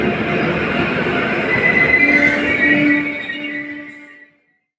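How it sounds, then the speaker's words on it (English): A train's brakes applied by the driver, with sustained squealing wheels and rolling rail noise that grow loud, then fade out near the end. "Let's see what happens when the driver applies the brake."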